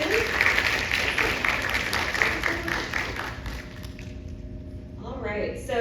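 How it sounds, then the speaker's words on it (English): Audience applause at a conference session fills the room, dense and steady, then thins out as a voice starts talking over the tail end. "let's give them a round of applause"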